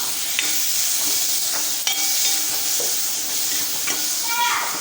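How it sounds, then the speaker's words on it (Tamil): Tomatoes, shallots and green chillies sauté in a pan, a steady close sizzle broken by spoon scrapes and clinks as the mix is stirred at irregular intervals. "இப்போ இந்த தக்காளி பழம் நல்லா வதங்கி வரணும் அப்படியே சேர்த்து கலந்து விட்டுக்கலாம்"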